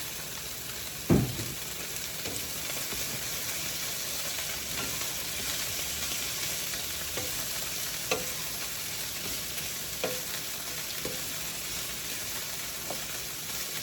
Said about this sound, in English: So you just saute a little bit until it's wilted a little bit.